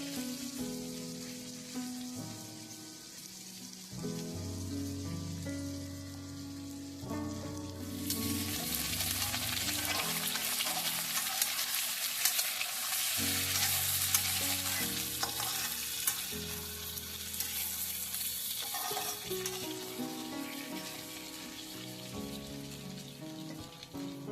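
Potatoes sauté in a pan over a high gas flame, a sizzle like rain that grows louder and denser partway through, with stirring scrapes over a low kitchen hum, close and with no talk.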